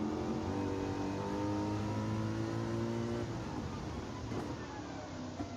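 A race car in the Gran Turismo 7 racing game revs steadily, its engine tone holding then dropping as it shifts, with faint tyre and track noise under a moderately quiet mix.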